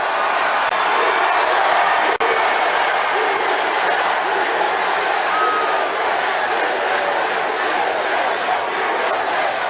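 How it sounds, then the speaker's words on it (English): Large crowd at an outdoor presidential campaign rally in Gastonia, North Carolina, giving off a dense, continuous roar of cheering and shouting that stays loud and steady throughout. "This is one hell of a big crowd."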